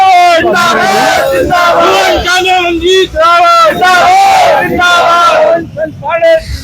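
A large crowd of supporters of a Congress-backed municipal candidate in Ramnagar cheers and chants in loud, rhythmic shouted bursts at an outdoor campaign rally, with voices rising and falling in waves and brief lulls near the end.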